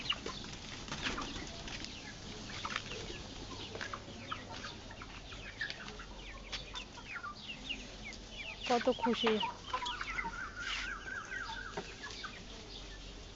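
Free-ranging farm chickens let out in the afternoon cluck and squawk repeatedly, with wings flapping now and then, while a person speaks briefly nearby.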